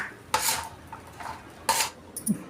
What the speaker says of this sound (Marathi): खसखस भाजून घेऊया